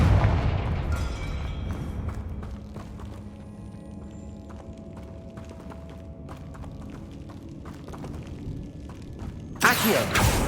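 A fire-blast spell explodes in a fantasy wizarding action game, a heavy low boom that decays into a long rumbling tail with scattered crackles and clatters, then a sharp loud burst near the end.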